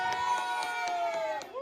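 Children at a resort shout and cheer in a lively burst, with a sustained high voice running through rhythmic pulses of cheering, close by and fairly steady across the short moment.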